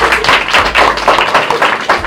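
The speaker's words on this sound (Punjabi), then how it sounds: "ਜੋੜਦਾ ਤਾੜੀਆਂ ਦੋਨਾਂ ਸਿੰਗਰਾਂ ਲਈ" Audience applause for two singers, a dense, loud wash of many hands clapping continuously with no talk over it.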